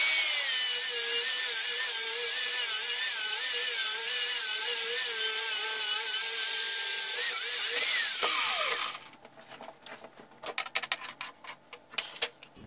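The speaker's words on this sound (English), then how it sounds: "we're going to cut a piece of that steel off" A saw cuts a piece of steel with a continuous high grinding whine whose pitch wavers, running for about eight seconds before winding down, followed by scattered clatter and handling knocks.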